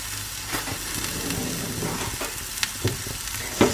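Beaten eggs for a leek and pea omelette sizzle and crackle steadily in a frying pan, a close, continuous fry with scattered pops and a few sharper spits near the end.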